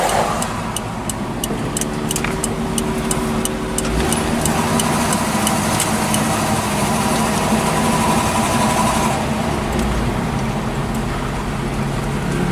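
A car engine hums and idles steadily as a vehicle creeps along slowly past a lakeside boat launch, with constant low road noise and faint ticking throughout.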